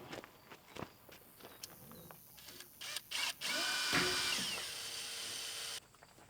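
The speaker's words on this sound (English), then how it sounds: "I'm gonna grab the drill." A power drill on a cover crop seeder build whirs up in a couple of short bursts, then runs in one steady, loud whine for about two seconds, after footsteps and handling clatter nearby.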